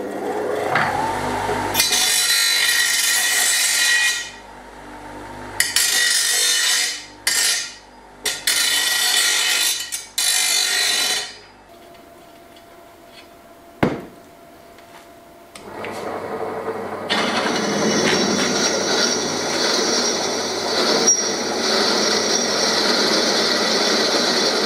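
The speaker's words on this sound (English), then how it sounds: "drill 2 holes in it for me legs to bolt through" A power drill drills holes in metal in several bursts of varying length, grinding loudly with short stops between, then runs longer near the end.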